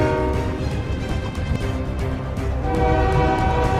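A train rumbles past with rattling wagons and a sustained horn tone, steady and fairly loud throughout.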